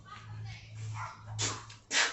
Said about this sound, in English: apparently the two dogs don't like the other dog on the other side of the fence, so that's what you hear going on in the background